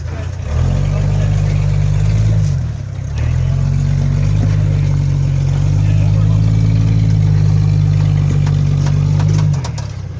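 An off-road vehicle crawls up a rocky trail, its engine holding a loud, steady low drone that dips briefly and then resumes while people speak over it.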